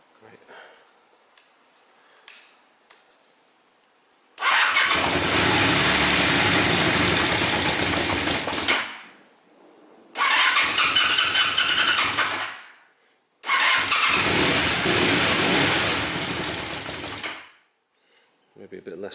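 Honda CB400 motorcycle being recommissioned: a few clicks, then the engine fires and idles loudly for several seconds, cuts out, and restarts twice more with short idles between stops.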